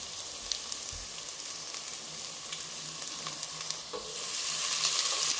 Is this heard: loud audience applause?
no